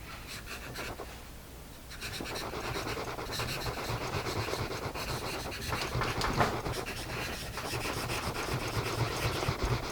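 A Jot 2HB pencil from Dollar Tree scratches steadily across paper, a close, continuous dry rasp of graphite on the page that grows a little louder after the first couple of seconds.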